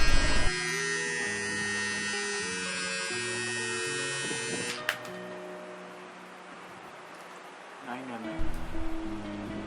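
An electric beard trimmer runs with a steady motorized buzz while cutting hair at home, loud and close for about five seconds, then fading to quieter rustling and handling noise.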